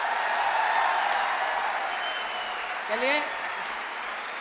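Audience at a Hindi poetry recital (kavi sammelan) applauds, a dense, steady patter of clapping from a crowd, with the poet's voice briefly heard over it.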